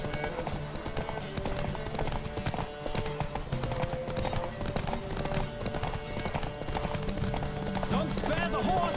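Rapid rhythmic hoofbeats of a galloping horse in the video game The Witcher 3: Wild Hunt over a music bed, steady and continuous, with a voice speaking over it.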